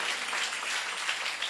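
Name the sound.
congregation clapping hands in church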